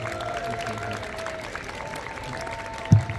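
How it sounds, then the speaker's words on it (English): Scattered, fairly quiet clapping from a crowd of children and adults at an outdoor school Memorial Day parade, with a faint held tone in the background and a sharp thump near the end. "Everybody give him a round of applause."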